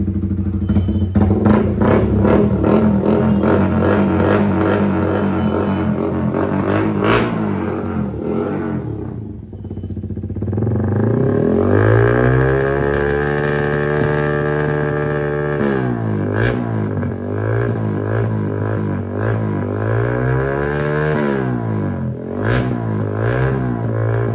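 Light revs from a modified Yamaha R15 motorcycle: the engine climbs and falls in pitch several times, settles briefly, then gets a run of short blips, loud and close throughout.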